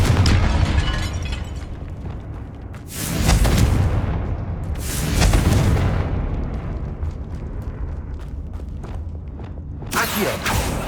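The Confringo fire spell in Hogwarts Legacy bursts in several booming explosions, a large blast near the start, another a couple of seconds later and a final one at the end, over rumbling game ambience.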